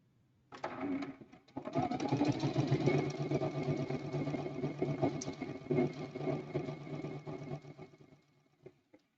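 A sewing machine stitches a quilt-as-you-go Christmas quilt block in one continuous run lasting several seconds, a steady mechanical whir at moderate level that starts after a brief pause and stops near the end.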